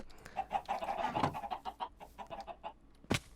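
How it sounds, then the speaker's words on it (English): Chickens in the Minecraft video game give a steady run of soft, repeated clucks at close range, followed near the end by one sharper, louder call, with no talk over them. "I'd like to see these chickens producing."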